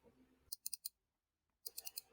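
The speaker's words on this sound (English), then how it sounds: "Clicking the button turns the bulb on and off." Button on a smart bulb setup being clicked to switch the light on and off, two quick bursts of sharp small clicks separated by silence, faint and close.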